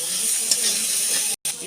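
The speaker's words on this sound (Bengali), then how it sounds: "ইঁচড়টা দিয়ে দিচ্ছে মশলার মধ্যে, দাও। এবার কষা হবে।" Young jackfruit and drumsticks tossed into hot spice masala in a home kitchen pan, giving a continuous close hiss and sizzle with a brief stirring clatter partway through.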